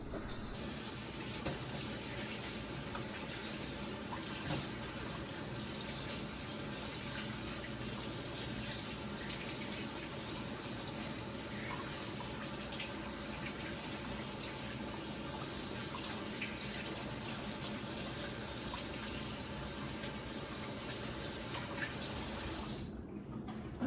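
Hands being washed under a running kitchen tap after kneading garlic bread dough, a steady close gush of water that runs unbroken for over twenty seconds.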